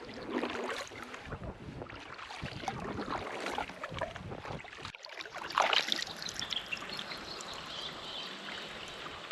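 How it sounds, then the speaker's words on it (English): Fast river water rushing past a canoe on the Murray River, a continuous close splashing and gurgling flow that swells into a louder hissing wash partway through. "I can hear water flowing very fast."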